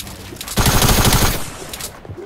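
A loud, fast burst of automatic gunfire in Fortnite rattles for about a second before trailing off into quieter game noise.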